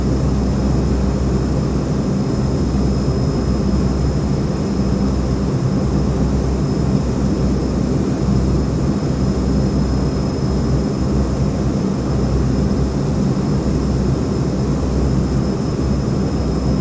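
Beechcraft King Air turboprop engines roar during a low pass over a runway in Microsoft Flight Simulator, a loud, steady, continuous drone holding throughout with no breaks.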